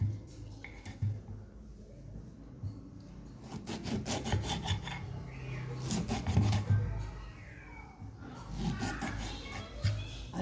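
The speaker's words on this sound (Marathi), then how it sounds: "अशा प्रकारे आपले लिंब सगळे कट करून झालेले आहे" A knife cuts through fresh lemons being prepared for a sweet and sour pickle, giving repeated short scraping and slicing strokes on a board, close and fairly loud, with quieter pauses between bursts.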